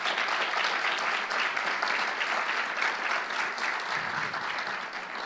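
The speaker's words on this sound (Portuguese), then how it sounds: "Você pode dar um aplauso bem forte ao Senhor?" A church congregation claps loudly and continuously, dense sustained applause filling the whole stretch with no voices over it.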